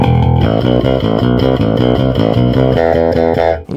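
A custom electric bass guitar through its humbucker pickup, playing a steady run of repeated sustained notes, loud and close with an effected, slightly distorted tone and no voices.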